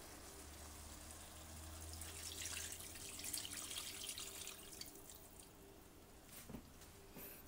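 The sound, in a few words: pouring chicken broth into the pot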